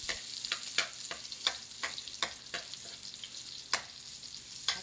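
Garlic fries in pork fat in a pan for pakbet, a steady quiet sizzle broken by sharp crackles and the scrape of stirring at irregular intervals, close up with no talking.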